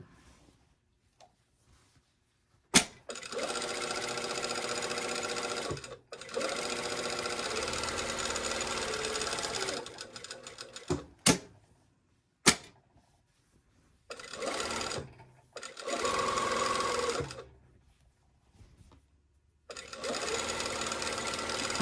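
A sewing machine runs top stitching across a garment in several bursts of fast, even whirring, each several seconds long, separated by quiet pauses and occasional clicks, close and clear.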